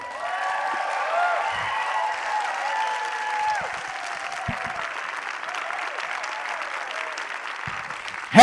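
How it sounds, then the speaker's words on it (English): A crowd applauds at a science comedy night, steady dense clapping sustained throughout at moderate volume, with faint voices mixed in early and a brief louder sound at the very end. "Keep the applause going for our next speaker"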